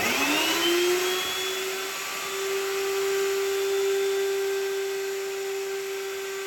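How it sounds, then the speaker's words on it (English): Router cutting a binding channel just below the glue line on a custom guitar body: a loud, close, high-pitched motor whine that rises in pitch as it spins up, then holds steady with a rough cutting hiss underneath. "we'll set this up so that the router runs just below the glue line"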